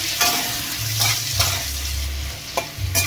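Ginger-cumin paste fries in oil for a Bengali chana dal, with a constant sizzle broken by repeated scraping strokes of a spatula stirring the pan, close and fairly loud.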